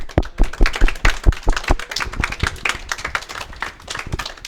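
A small audience at a school presentation event claps in a scattered, uneven rhythm, the individual hand claps close and distinct at first and thinning out over about four seconds, with faint talk underneath.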